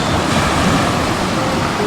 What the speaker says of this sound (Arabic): صوت البحر